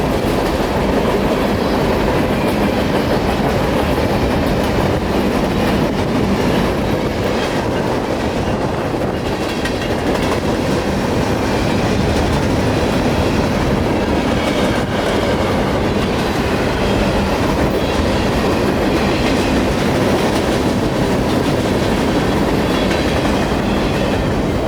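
A CSX coal train rolls past continuously in Dade City, Florida, with a dense rumble and rhythmic clatter of wheels on rails, loud and close.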